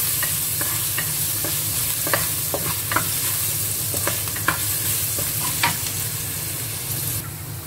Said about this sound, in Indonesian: kita masukkan bawang putihnya ya, kita oseng sampai kuning ya teman-teman